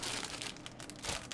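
Plastic resealable bags from a 1:48 Kinetic Sea Harrier FRS.1 model kit crinkle and rustle close by in quick, irregular bursts, faint overall with no voices.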